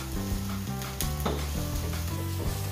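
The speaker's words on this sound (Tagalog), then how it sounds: "Gigisahin lang natin ito hanggang tumabas ang aroma ng garlic at bawang." Garlic and onion sauté in hot oil in a pan, a steady close sizzle with a few stirring clanks, for a chicken Sprite dish, no voices.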